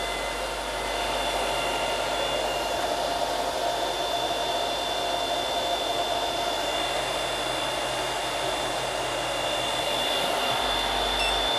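An M10 Sniper Pro coffee roasting machine runs steadily, a constant loud whooshing hot-air roar with a faint high whine, unbroken and alone.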